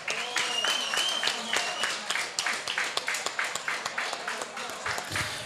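An audience claps steadily for a young accordion school performer, with a full wash of applause that thins into more distinct individual claps toward the end.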